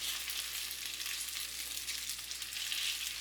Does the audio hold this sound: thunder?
no